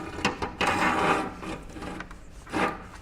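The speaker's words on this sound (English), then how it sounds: "So we'll insert the axle" A stainless steel axle rod scrapes and rubs as it is pushed through a window trolley, a few short rasping slides and knocks close by with no talk.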